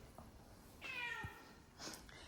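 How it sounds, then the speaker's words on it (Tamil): A white cat gives one faint drawn-out meow with a shorter bleat after it, against quiet background noise in a home garden. "இந்த பூனை தொந்தரவு தாங்கவே முடியலைங்க."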